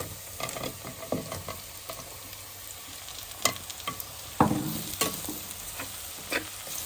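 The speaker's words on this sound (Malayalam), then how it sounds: "ഇങ്ങനെ ചെയ്യുമ്പോൾ നമുക്ക് നമ്മുടെ ഈ കൂണും ചെറുതായിട്ടൊന്ന് ഫ്രൈ ആയി കിട്ടും." Mushrooms frying in a pan for a Kerala-style mushroom roast, a low sizzle broken by irregular scraping stirs and a few louder knocks of a spoon, close up with no speech.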